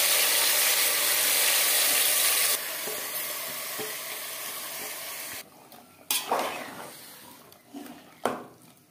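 Marinated mutton hitting three spoons of hot mustard oil in a pan, a loud steady sizzle for a few seconds that drops and then continues softer, with scraping stirs and sharp clatters from a spoon or utensil near the end.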